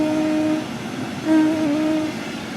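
In the video game Train Sim World 3, an oncoming train passes by, producing a steady mechanical hum with tonal whines. The sound swells briefly midway, then settles back into a continuous drone with no voices.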